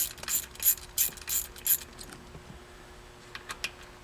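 Ratchet socket wrench with a 10mm socket turning the shifter bolts on a C5 Corvette, giving several quick bursts of clicking in the first two seconds, then a few fainter clicks, close and with no talk.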